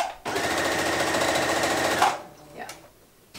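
A sewing machine runs at medium speed in a steady, loud mechanical whir for about two seconds before stopping, followed by faint rustling and a brief voice-free pause.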